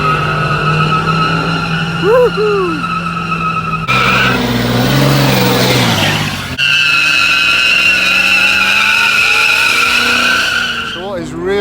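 A car does a burnout at a classic car show, tires squealing loudly and engine revving in bursts while an excited crowd cheers and shouts nearby.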